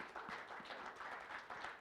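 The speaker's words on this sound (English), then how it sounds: "Let's give them just like a round of applause for their work." A church congregation at a live service applauds, a soft, fairly distant patter of clapping that keeps going without pause.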